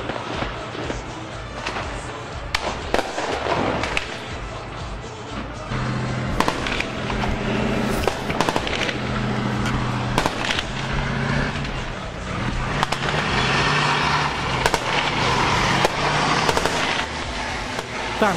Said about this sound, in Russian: Отход танка под пулеметные очереди.